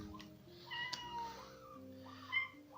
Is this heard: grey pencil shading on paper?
no